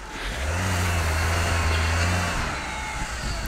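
Volga car without front-wheel drive struggling to turn around off-road, its engine rumbling and revving steadily up close, then easing off slightly toward the end.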